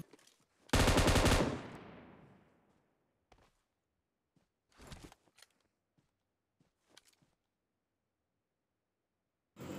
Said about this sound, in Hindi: जिसमें ए डब्ल्यू एम का मैं एक शॉट देता हूँ पर एक शॉट में वो मरता नहीं है तो मैं एक और शॉट देता हूँ